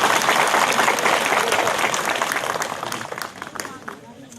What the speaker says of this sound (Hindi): इसके लिए सबको इनको ताली देना चाहिए